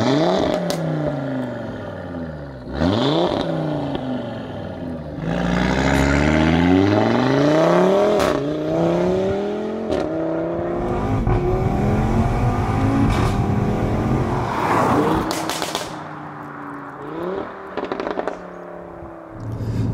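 A loud, tuned Audi RS3 8V pre-facelift engine revs hard again and again, climbing and dropping in pitch, with sharp crackles and pops between the revs.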